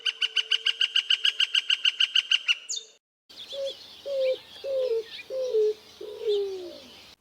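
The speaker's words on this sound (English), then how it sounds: "Greater roadrunners give a series of low cooing notes that drop in pitch" Greater roadrunner in Arizona gives a series of about six low cooing notes, each sliding downward in pitch, clear and fairly close after a separate burst of rapid rhythmic chirps.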